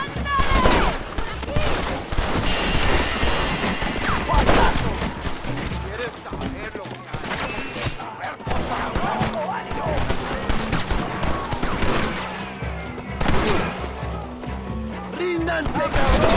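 A Springfield rifle and other weapons fire in a Red Dead Redemption shootout, loud repeated gunshots and crackling bursts over a steady stream of battle noise with voices mixed in.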